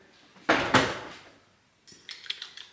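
A spoon stirs coffee with non-dairy creamer in a cup, two clinking knocks followed later by a quick run of light taps against the rim, close and fairly quiet, with no talking.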